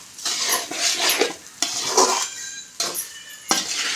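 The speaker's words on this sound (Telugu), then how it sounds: "ఇప్పుడు ఇవి అన్నీ కలుపుకోవాలి" A spoon scrapes and clatters against a pan while mixing spicy chicken rice ingredients, in four or five rhythmic bursts of metallic scraping, close and fairly loud, with no talking.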